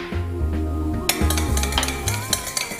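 Spoon stirring a ceviche dressing of vinegar and lime juice for kingfish in a bowl, with steady close scraping and clinking and a few sharper knocks against the side.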